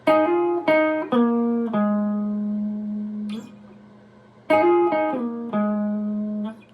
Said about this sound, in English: the double stop is gonna sound like this